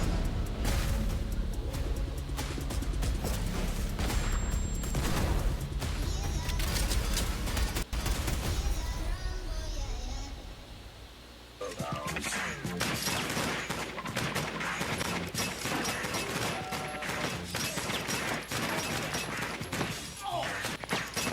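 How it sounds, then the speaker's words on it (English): Dense, sustained volleys of movie gunfire from an action scene, loud and continuous with crashing impacts, a brief drop near the middle before the shooting resumes just as heavily. "Look at how many shots were fired."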